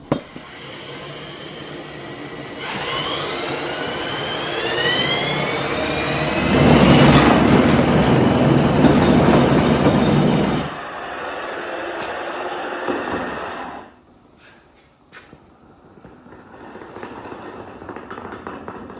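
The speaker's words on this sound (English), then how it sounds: "use the cordless drill to spin it up" Cordless drill spinning a wheelbarrow tire by its axle shaft, a loud sustained whirring whine that rises in pitch as the tire speeds up, then fades away and gives way to quiet.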